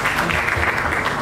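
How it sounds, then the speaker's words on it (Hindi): Crowd applause at a Bhojpuri film trailer launch event, loud and steady throughout a short stretch of continuous clapping. "जोरदार तालियां हो जाएं."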